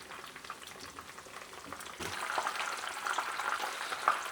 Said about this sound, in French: ça fait environ 10 minutes que nos ailerons de pintade sont en train de frire